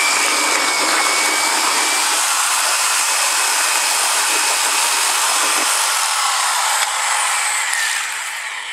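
An electric plaster mixer paddle spins in a bucket of water to clean it after mixing plasterboard adhesive, a loud continuous high whirring motor with churning water, steady throughout and alone.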